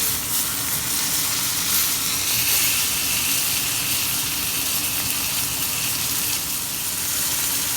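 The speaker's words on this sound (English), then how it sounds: "I'm going to go ahead and sear each side of the steak for about 30 seconds" Steak searing in a hot pan, a steady, close, bright sizzle and hiss that holds evenly throughout, with no talk.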